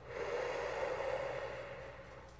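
A person breathes out deeply in one long, steady, soft breath, close and quiet, with no other sound around it.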